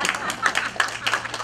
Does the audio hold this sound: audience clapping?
yes